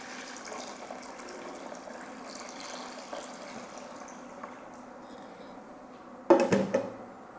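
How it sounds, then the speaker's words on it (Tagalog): Water pours into a cooking pot for batchoy, Filipino pork liver noodle soup, on a stove set to medium heat, making a low steady trickling splash, with a louder sloshing burst toward the end. "Dadagdagan ko lang ng tubig at papakuluan lang natin to."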